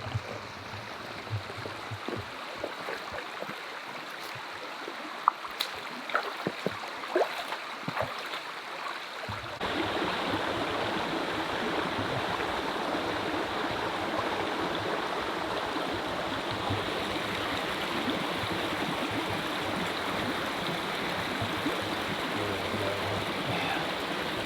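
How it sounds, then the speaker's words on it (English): Creek water flows steadily through snowy woods during a Pennsylvania deer season hunt, a continuous rushing wash that turns fuller and louder partway through, with faint rustling and footsteps early on. "The sound of the creek's helping us."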